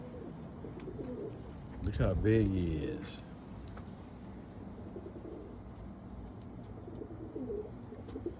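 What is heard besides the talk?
roller pigeon cooing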